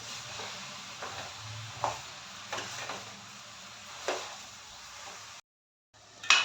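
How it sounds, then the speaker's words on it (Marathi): Carrot halwa (gajar ka halwa) being stirred in a pan, a soft steady sizzle with a few scraping strokes of the spoon, close and quiet, broken by a brief silence near the end, with no talking. "आणि आता याला छान मिक्स करून घेऊया"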